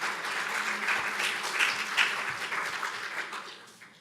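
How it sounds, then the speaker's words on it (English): An audience at an evening art talk with a museum curator claps in sustained, dense applause that stays steady and then tapers off toward the end. "You needn't applaud me"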